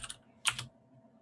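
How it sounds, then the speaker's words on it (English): Brief bursts of typing on a computer keyboard during a live Linux talk show broadcast: two quick clusters of clicks, then a louder flurry of several keystrokes, close and alone with no talk. "who's typing? Who's typing?"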